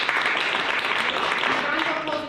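An audience at an improvised comedy night gives a round of applause, a dense continuous wash of clapping that holds steady at moderate loudness, with voices running underneath.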